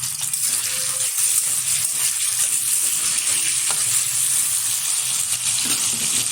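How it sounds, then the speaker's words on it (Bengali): Small paneer cubes fry in hot oil in a wok, giving a steady, close hiss of sizzling with faint scattered pops, heard alone without any talking. "পনিরগুলো ছোটো ছোটো টুকরো করে কেটে নিয়েছি। এখন হালকা করে ভেজে"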